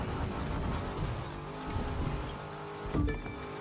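A car engine revs and drones in The Crew 2 racing game, a steady nearby motor with shifting pitch and a brief louder burst near the end, heard without talk.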